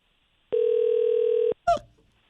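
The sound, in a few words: telephone ringing unanswered at front desk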